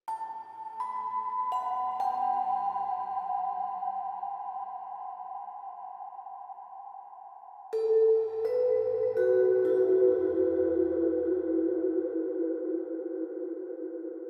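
A synthesized hybrid mallet lead, initial preset, plays a slow, sustained melody with bell-like tones, shifting to lower notes midway, steady and clear with no voices.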